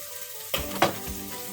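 Bacon ends cook in a pan, a soft, low sizzle with two quick stirring clinks close by, faint overall.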